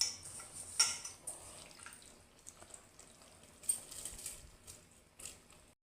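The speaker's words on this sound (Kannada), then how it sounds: "ಆವಾಗಲೇ ಇಟ್ಕೊಂಡಿದ್ನೆಲ್ಲ ಅಕ್ಕಿ ಇವಾಗ ಸೇರಿಸ್ಕೊತಾ ಇದ್ದೀನಿ" Sona Masoori rice poured into a pot of boiling water for fenugreek leaf pulao, giving a soft patter with a few light clinks of metal cookware, close by and without talk.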